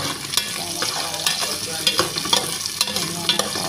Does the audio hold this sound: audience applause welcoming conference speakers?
no